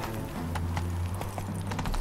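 Hooves of Roach, Geralt's horse in The Witcher 3, clip-clopping at a steady gallop, moderately close, over a low droning game music bed.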